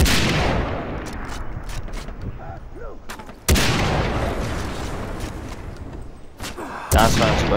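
Sniper rifle shots in Far Cry 3 crack out loudly three times, each a sharp blast with a long rumbling tail, spaced a few seconds apart with faint game ambience between.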